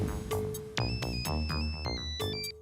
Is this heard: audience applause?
no